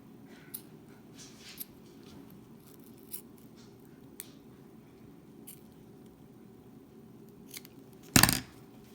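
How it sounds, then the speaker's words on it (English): Scissors make a single crisp, close snip through elastic for a DIY mask strap, preceded by faint light rustles and handling ticks in a quiet room. "thread your elastic through the holes if you cut it at an angle"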